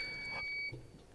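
A home fire alarm gives a single steady, shrill electronic beep lasting under a second, thin and fairly faint in the background of an otherwise quiet room.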